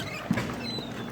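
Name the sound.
heavy rain outside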